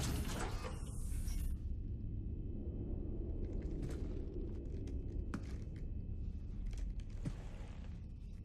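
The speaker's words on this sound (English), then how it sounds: "This is the only time you actually get to see the elevator work." Inside the Mass Effect 3 video game, an elevator on the Citadel moves with a continuous low mechanical rumble and faint creaks, after a short sharp burst at the start.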